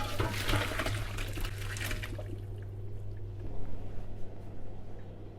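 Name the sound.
draining boiled potatoes into a colander in the sink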